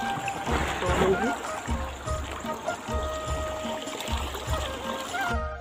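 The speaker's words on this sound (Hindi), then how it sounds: "मैं अपने पांवों को धो लूँगी" Water splashes and trickles as feet are washed outdoors, with rhythmic dipping and pouring over a steady watery background while someone talks over it.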